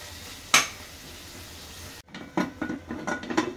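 Mutton cooking in a little oil in a pot with potato and drumstick: a single sharp metallic clink, then after a brief silence a series of scraping and stirring scrapes over a low sizzle.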